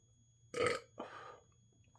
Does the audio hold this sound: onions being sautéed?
no